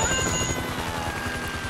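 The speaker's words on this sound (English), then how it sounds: "Can you hear that? Chopper! Incoming!" Helicopter rotor chopping in a video game airfield shootout, a steady, loud low thumping throbbing throughout alongside a dense bed of other in-game noise.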